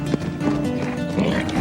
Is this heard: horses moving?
yes